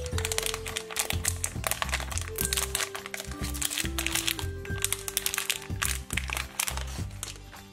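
Plastic packaging of a Disney Mimoji blind bag crinkles and crackles in rapid, close bursts as it is torn open, with music playing underneath.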